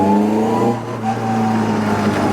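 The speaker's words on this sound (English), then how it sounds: "Oh wow, that gearbox is loud." A loud gearbox whine in a rear-wheel-drive Zetec Mk1 Ford Fiesta, heard from inside the car. A steady mechanical drone and high whine ride over the engine, close and constant, with no talking.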